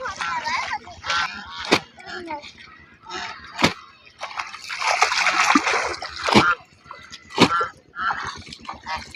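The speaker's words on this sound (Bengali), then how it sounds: "এদিকে কাতা কাচা শুরু হয়ে গেছে" Water splashes and slaps in bursts as a heavy quilt is sloshed and beaten in a river, with people talking between the splashes.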